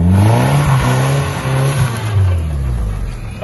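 A car engine labours and revs loudly in second gear while climbing a steep hill, the pitch rising and dipping with strain, close and continuous throughout.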